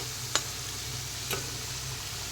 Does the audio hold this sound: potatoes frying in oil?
yes